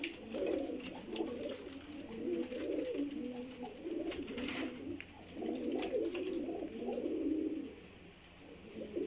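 Pigeons coo softly and repeatedly on a rooftop loft in rolling, overlapping phrases, with a faint high steady tone behind them and no voices.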